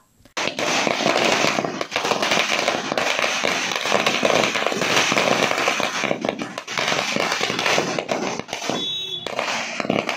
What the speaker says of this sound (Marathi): कोल्हापुरात महाडिक युवा शक्तीच्या कार्यकर्त्यांनी बी न्यूज कॉर्नरला फटाक्यांची आतषबाजी केली